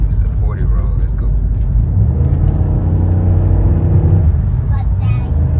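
A Chevrolet Impala SS fitted with a K&N cold air intake revs hard close by, its engine rising to a loud, sustained droning roar that swells and holds, with people talking over it.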